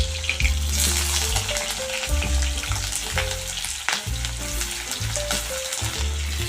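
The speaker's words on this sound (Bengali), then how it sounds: "আলুগুলোকে এখানে খুব ভালো করে আমাকে ভেজে নিতে হবে।" Thinly sliced potatoes fry in a pan of hot oil, a steady, loud sizzle with scraping stir strokes and metallic clinks throughout, no voice.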